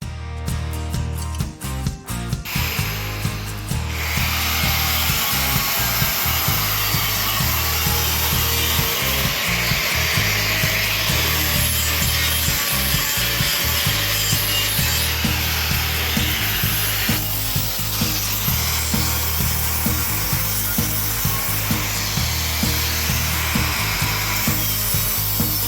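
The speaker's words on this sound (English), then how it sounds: "we've ground away the area to get some clean metal" A power grinder scours rust off the metal of a motorcycle sidecar under restoration, a loud, continuous abrasive whine with rhythmic surges and scraping pulses throughout, close and alone without talk.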